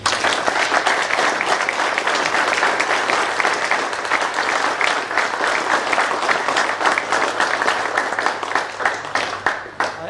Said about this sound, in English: these two gentlemen deserve a big round of applause